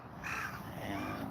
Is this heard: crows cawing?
yes